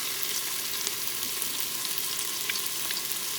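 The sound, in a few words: stirring spices frying in Instant Pot for dal tadka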